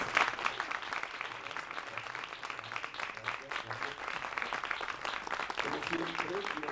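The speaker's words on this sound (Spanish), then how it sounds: "Si quieren pueden aplaudir." A lecture audience at a university conference claps in soft, dense applause, faint and fairly distant, holding steady for several seconds.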